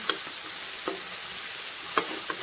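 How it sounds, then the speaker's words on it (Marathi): Green chili garlic paste and tomatoes fry in a pan with a steady close hiss, broken by a few sharp spoon clicks against the pan as the mixture is stirred; no voices. "1 ते 2 मिनिट जरा टोमॅटो नरम होईपर्यंत शिजवून घ्यायचं आहे, तळून घ्यायचं आहे"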